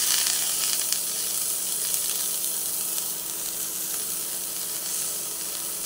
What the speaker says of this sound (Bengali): সব দিয়ে আবার ভালোভাবে নেড়ে চেড়ে ভেজে নিচ্ছি